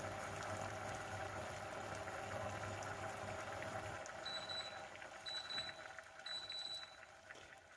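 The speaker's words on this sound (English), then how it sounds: "You want to make sure it is actually boiling, that you can see bubbles coming off the bottom, steam coming off the top" Redcurrant sorbet syrup at a rolling boil in a pan, a steady close bubbling and hiss that carries on throughout, with faint high electronic beeps near the end.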